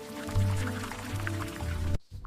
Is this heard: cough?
no